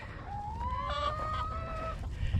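A rooster lets out a long, drawn-out tonal call at moderate distance, with soft clucking and low background noise from a backyard flock of older hens and newly added birds in the yard.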